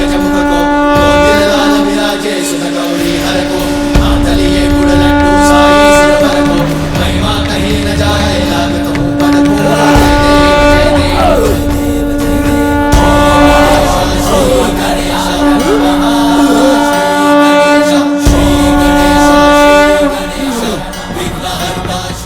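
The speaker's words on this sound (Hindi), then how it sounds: "नारायण के शंख की ध्वनि है" A conch shell blares a loud, sustained, droning horn tone that holds steadily for a long stretch with a dense, swelling background.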